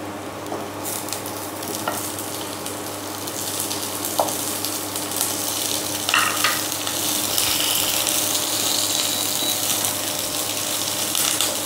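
Onion and capsicum fry in hot oil for chili baby corn, a steady sizzle with occasional stirring scrapes and clicks of a spatula against the pan.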